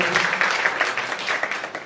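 An audience applauds to welcome a guest at a gathering, with a dense, steady patter of many hands clapping close by, carrying on through the whole short burst.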